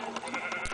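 Sheep bleating in the video game Minecraft, a single short, close bleat heard clearly on its own.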